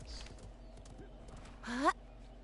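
Horse galloping in the video game Realm Royale, its soft hoof clip-clop running under a voice, with a brief rising cry near the end.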